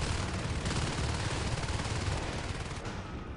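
Pistol and shotgun fire from the Natural Selection 2 video game rattles in dense, rapid bursts, loud and continuous with no pause, as a competitive match plays out.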